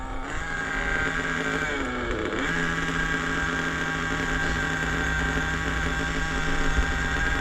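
A nitro RC car engine running on a freshly changed fuel mixture, with new clutch bells and spur gears, idles steadily and loudly in a continuous buzzing drone with a brief dip midway, and no talk over it.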